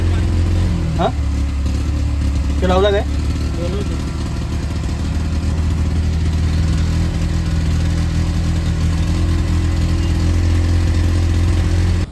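An auto rickshaw engine with a sensor fault runs steadily, its low, continuous drone filling the whole stretch up close, with a couple of brief higher chirps early on.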